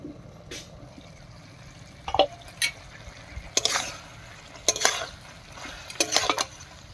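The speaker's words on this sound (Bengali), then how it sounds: "এবার ঢাকাটা তুলে নিচ্ছি।" A metal lid comes off a pot of ash gourd cooking on a village stove, giving several sharp clinks and scrapes spread over a few seconds against a low, steady background hiss.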